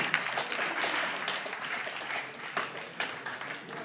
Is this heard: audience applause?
yes